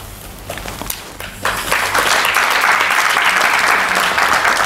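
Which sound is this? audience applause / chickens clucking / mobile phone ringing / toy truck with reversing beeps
audience applause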